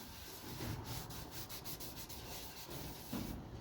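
A cloth wipes an abrasive paste onto a camphor laurel wooden bowl sanded to 240 grit, giving a soft, faint, steady rubbing and scuffing close by, with a few slightly stronger strokes and no talk.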